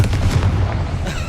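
Confringo fire-spell blast in the video game Hogwarts Legacy, a loud, close, booming explosion with a rumbling low-end tail lasting about a second.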